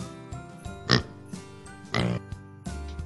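A pig grunts and oinks in several short, rough snorts spaced across the clip, close and moderately loud over a low musical backing.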